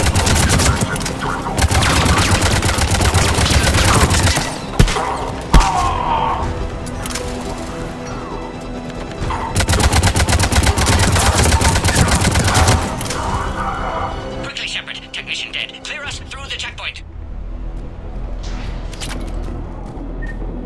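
Heavy sci-fi gunfire from the video game Mass Effect 3, with sustained bursts of automatic weapons and booming blasts in a loud battle, continuing through most of the stretch with brief lulls.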